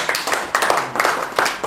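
A church congregation claps in time, sharp rhythmic bursts of many hands close by, with faint cheering voices mixed in.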